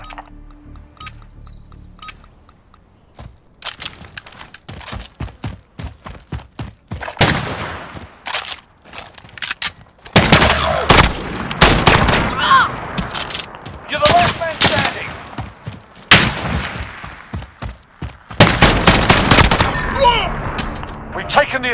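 Call of Duty: Modern Warfare gunfire crackles in scattered shots that grow into dense, loud volleys of automatic fire and heavy booms, with voices calling out between bursts.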